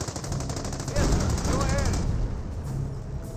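Rapid machine-gun and rifle fire from a World War II Company of Heroes battle, dense overlapping bursts with a loud volley in the middle, under a commentator's voice.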